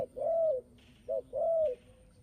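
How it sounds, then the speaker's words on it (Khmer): A Khmer turtle dove from Phnom Lang in Kampot province coos three times nearby, two long rolling notes split by a short clipped one, over a quiet background. "តែនេះជាលលកខ្មែរទេមិនមែនជាលលកកូនប្រកាសឬក៏លលកម៉ាឡេអីទេ"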